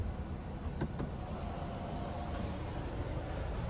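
A sunroof on a 2025 Cadillac XT4 Sport sliding fully open inside the cabin: a steady, faint electric motor whir over low road rumble, with a couple of soft clicks near the start.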